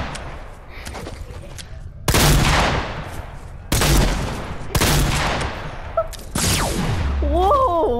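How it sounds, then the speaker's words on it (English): Gunfire in the Fortnite battle royale game, with loud broadband shots bursting in at roughly 2, 3.7, 4.8 and 6.3 seconds, each decaying slowly; a faint voice and a rising whistle-like tone follow near the end. "Stop shooting me!"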